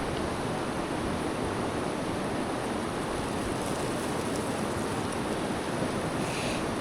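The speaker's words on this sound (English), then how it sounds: "Because the flow in the river is too high. It's too high to cross." Fast, high water of the Niri Chu, a mountain river too swollen to cross, roars as a steady, dense rush of broadband noise that fills the whole stretch without any break.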